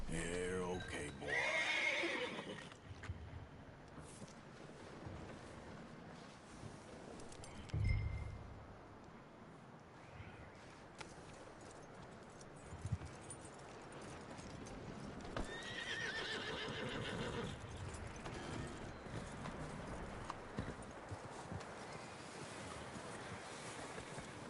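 In Red Dead Redemption 2, a horse whinnies loudly and its hooves clip-clop in bursts, set against ocean surf and wind. A voice speaks briefly amid the game sounds.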